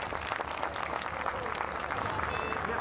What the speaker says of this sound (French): je voudrais exceptionnellement que vous applaudissiez nos amis de la restauration